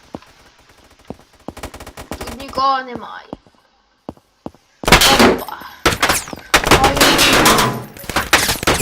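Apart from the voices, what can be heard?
rifle gunfire in Roblox video game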